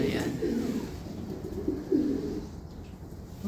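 Soft, low cooing from racing pigeons at close range, a few murmured phrases over a dull background rumble.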